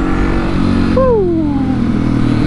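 A 701 motorcycle engine revs loudly and steadily up close, with a rising pitch as it accelerates into a small wheelie.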